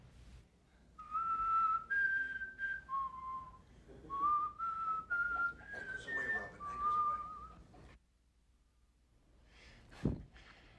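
A man whistling a clear, slow melody of sustained notes, fairly near and alone without talk, ending in silence and then a brief thump.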